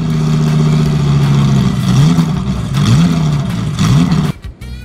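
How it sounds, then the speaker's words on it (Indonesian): A toy racing motorbike gives off a loud buzzing engine-like whine that rises and falls in three quick revving swells before cutting off abruptly, close and continuous. "Wow, ada motor balap teman-teman."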